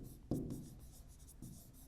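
A pen scratches across paper during an English class exercise, with a brief firmer stroke near the start and another short stroke later, faint and close against a quiet room.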